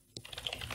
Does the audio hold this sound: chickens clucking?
no